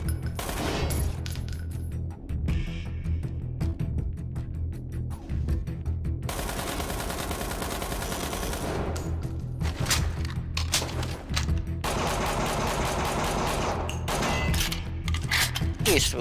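Gunfire in the online shooter Metro Conflict, bursts of rapid automatic shots and single cracks in quick succession, with someone talking over parts of it.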